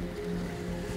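A boat moves out on the open sea through waves, with a steady droning engine hum under a constant wash of wind and water.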